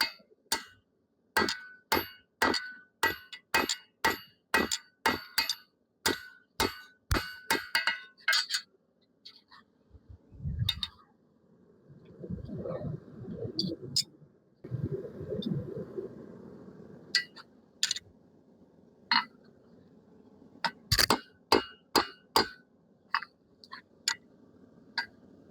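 A cross peen hammer forging a chef knife strikes metal in a quick series of sharp ringing blows, then pauses among softer shuffling and rumbling before another run of clanging strikes.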